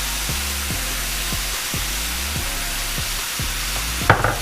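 Crumbled sausage seasoned with crushed red pepper and black pepper fries in a pan, a steady loud sizzle broken by regular scraping stir strokes, with a brief hiss near the end.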